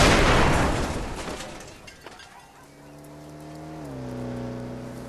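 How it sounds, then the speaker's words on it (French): A car bursts into flames and explodes in a Roblox GTA-style game: a loud, broad blast opens, then fades into crackling noise. A steady tonal engine-like hum rises and shifts toward the end. "Je sais pas pourquoi elle crame comme ça la voiture"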